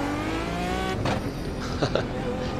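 A GT1 race car engine in iRacing hums at steady revs with whining harmonics, rising slightly, plus faint squeals and bumps of the driving game.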